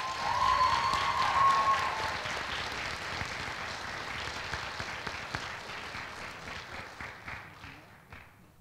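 An audience applauds at a university robing and graduation ceremony, a dense wash of clapping that is loudest at the start and gradually thins out into scattered claps.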